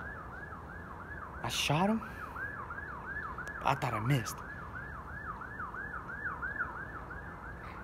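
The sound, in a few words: police sirens wailing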